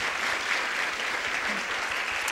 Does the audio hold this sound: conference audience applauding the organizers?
yes